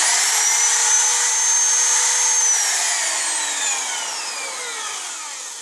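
A DeWalt 660 rotary tool motor whines steadily at high pitch after a brush replacement, loud and close, its tone gliding slowly downward as it gradually spins down over several seconds.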